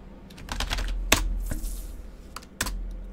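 Keys tapped on a lock terminal keyboard in a video game, several quick irregular clicks in close bursts with a few sharper strikes, heard alone without talk.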